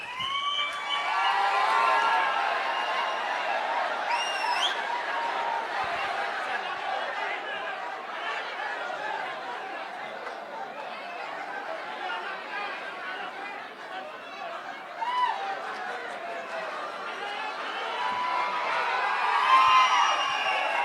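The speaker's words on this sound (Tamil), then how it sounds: "அரங்கம் நிறைந்த கைத்தட்டல் முனைவர் சுமதிஸ்ரீ அவர்களுக்கு நன்றி" An audience in a hall breaks into cheering, shouting and clapping, a sustained lively din of many voices that swells near the start and again toward the end.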